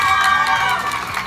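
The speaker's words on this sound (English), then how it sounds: "we are going to choose the winner by applause" A live show audience claps and cheers to pick a winner, a dense burst of crowd noise with shouts over continuous applause, loud and close.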